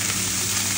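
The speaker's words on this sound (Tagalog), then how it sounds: "Igisa nyo na sa garlic at saka black beans." Pork sautéing with garlic and black beans in a pan sends up a brief, dense, even sizzle that holds close and steady throughout.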